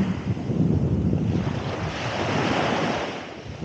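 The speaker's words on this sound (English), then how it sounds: "this is the beach of Anaxos, Lesbos, Greece." Ocean waves washing onto the beach at Anaxos on Lesbos, Greece, a continuous broad surf rush mixed with wind buffeting the microphone, swelling and easing slightly, with no voices.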